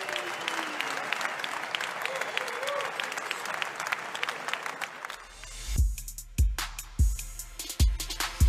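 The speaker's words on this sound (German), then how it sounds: "Und lauten Applaus" An audience at an MMA fight event in Munich claps and cheers in a busy crowd roar that thins out midway, giving way to a few sharp, separate thumps and claps over a quieter room.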